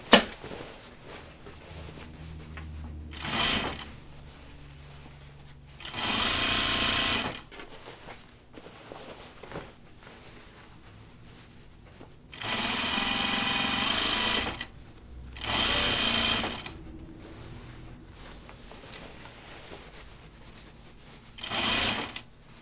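A sewing machine runs in several loud bursts of rapid stitching through long pieces of jeans denim, with quieter handling and pauses between the runs.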